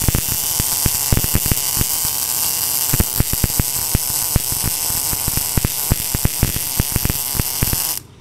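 An NBC 288 welding and cutting machine arc welding gives a steady loud crackling buzz with rapid irregular snaps throughout, close and continuous until it cuts off at the end, with no one speaking.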